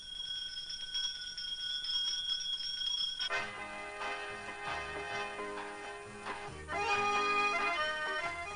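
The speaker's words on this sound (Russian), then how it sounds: "Звонок возвещает, что начинается новый учебный год" An electric school bell rings steadily to mark the start of the school year at a collective farm village school in 1990, a sustained metallic ringing that gives way to louder mixed ringing tones, no talk.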